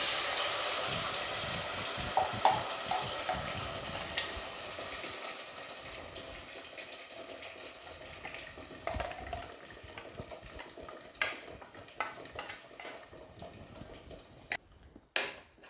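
Cumin, a bay leaf, ground masala paste and coriander leaves sauté in hot oil for coriander rice. A loud sizzle at the start eases into a softer fry, with scattered scraping stirs and light clicks.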